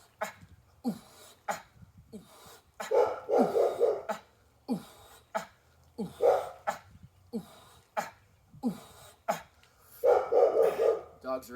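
Dogs bark near the microphone in repeated bursts of loud, sharp barks with short pauses between them, with several barks clustering together in louder volleys.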